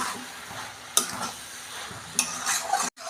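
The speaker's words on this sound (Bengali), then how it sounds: "আমি আর একটু কষাবো 5 মিনিট মতো" Cabbage ghonto sautéed and stirred in a pan, a steady close sizzle with two sharp utensil knocks against the pan and a brief scraping flurry near the end.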